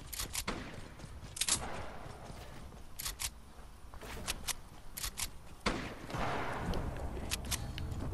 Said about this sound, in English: there are bullets flying down there